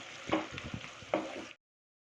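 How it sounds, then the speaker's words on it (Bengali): Mutton sautéed in oil in a pan, a soft, fairly quiet sizzle broken by two sharper scrapes of stirring before it cuts off abruptly into silence. "দিয়ে ভালো করে নেড়ে চেড়ে নেব। সুন্দর করে একটু 5 মিনিট মতন কষাবো।"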